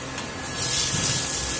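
Potatoes with salt and turmeric frying in hot oil for a fish-head cabbage curry, a close, steady hissing sizzle that swells after the first moment and holds, no talk.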